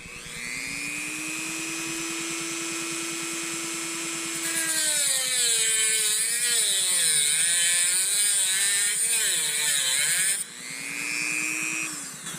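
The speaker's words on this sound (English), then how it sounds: "I can always grind it a little bit deeper." An angle grinder whines steadily as it cuts a notch into metal for a back gauge on a shop press bender, its pitch wavering and dropping under load while biting the workpiece, then rising again as it spins free.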